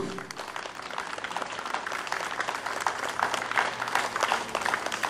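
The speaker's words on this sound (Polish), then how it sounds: "Darujemy gorący brawa naszemu dyrygentowi, starszy porucznik Władimir Sydorczuk" Applause from an outdoor audience for the conductor of the Ukrainian Main Police Directorate orchestra after a concert, a steady mass of clapping that continues for several seconds.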